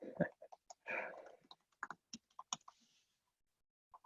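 Quick keystrokes on a computer keyboard while entering a neighborhood name, a sparse run of soft clicks and taps, close and quiet, alongside a brief murmur of talk.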